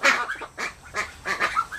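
Several ducks quacking in short, loud bursts, about five honking calls spread over a couple of seconds, close by with brief gaps between them.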